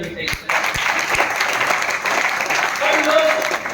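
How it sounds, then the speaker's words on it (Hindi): An audience of leaders and directors at a business meeting claps steadily for several seconds, a full, even round of applause with a few voices mixed in. "ताली वैसे बजनी चाहिए"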